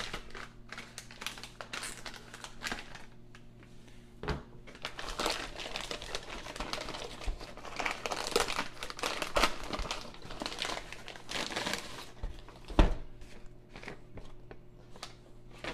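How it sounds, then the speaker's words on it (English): MRE military ration pouch being cut open with a knife, heard as close, rustly crinkling of packaging with scattered sharp snips and taps, irregular and fairly quiet, with no speech. "We'll go ahead and cut it open with our knife here."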